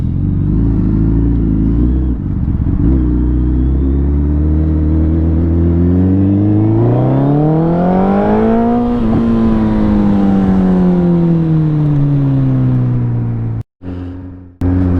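A Ducati Panigale V4-R motorcycle with an Akrapovic exhaust rides past loudly, its engine note climbing steadily to a high rev peak, then falling away as it decelerates, with a brief cutout near the end.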